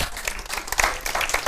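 Church congregation applauding together, a dense, steady patter of many hands clapping close by with no voices over it.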